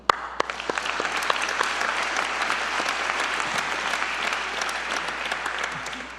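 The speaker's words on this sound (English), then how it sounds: "Round of applause." Sustained applause from a large graduation ceremony audience, dense and steady for several seconds with a few sharper individual claps standing out near the start.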